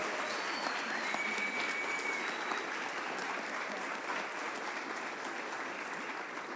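A church congregation applauds steadily and fairly loudly throughout, a dense sustained wash of clapping with a few faint tones drifting above it.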